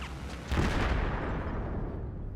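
Strafing gunfire in Battlefield 4 hits as a heavy burst of booming shots and blasts that rumble and decay over about two seconds, loud and dense with no talking.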